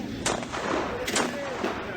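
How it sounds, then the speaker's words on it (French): A gunfire sound effect of a historical town-square skirmish, with several booming shots over a dense, roaring background. "Dès les premiers coups de feu"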